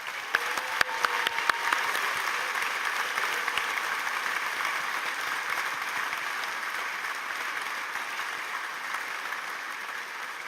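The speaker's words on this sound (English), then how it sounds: "let's give a round of applause for all of them" An audience at a graduation ceremony applauds in a dense, sustained wash of clapping, steady and fairly loud for the whole stretch, with a few sharper claps at the start.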